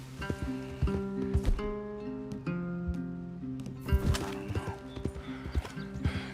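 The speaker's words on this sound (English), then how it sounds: "Leave the horses in the trees there." Horses in a Red Dead video game: hooves clip-clop on the ground alongside snorting and a whinny, with the animals close by and no speech over the sounds.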